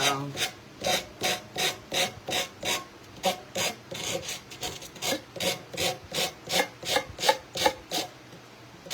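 Rhythmic rasping scrapes as excess napkin is scraped off a wooden edge during a decoupage craft project, about twenty even strokes in steady succession, close and moderately loud with no talking.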